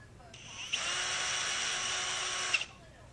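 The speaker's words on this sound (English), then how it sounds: "holes in the webs of the ribs are match drilled to final size" A power drill match-drills holes in the rib webs of a Van's RV-14 airplane elevator, running as one steady, close, high-pitched whine for about two seconds with a sharp spike as the bit starts and breaks through.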